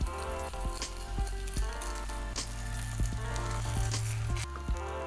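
A pancake fries in a pan over medium-high heat with a steady, dense sizzle and crackle, heard close up. It runs continuously for several seconds, nobody speaks, and faint clicks and taps sit underneath.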